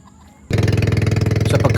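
A boat motor on the Maragondon River in Cavite starts abruptly after a quiet moment, then runs loud and close with a steady, rapidly pulsing drone.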